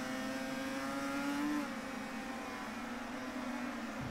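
A vintage racing motorcycle in a MotoGP video game, Luca Cadalora's 1993 bike, drones with a steady high-pitched engine whine, dipping slightly as it eases off, continuous and alone.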